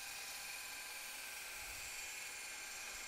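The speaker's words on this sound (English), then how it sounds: "Then I did the rough grind on the bevels." A belt grinder rough-grinds the bevels of a forged fighter knife blade, giving a steady, continuous high-pitched whine with a grating edge, moderately loud and alone without talk.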